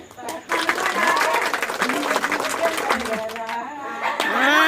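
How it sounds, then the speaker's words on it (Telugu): People clap at a New Year's Eve celebration, a dense, steady patter of many hands that runs through the whole stretch, with voices talking over it. "చప్పట్లు కొట్రి, మీరు చప్పట్లు కొట్టు."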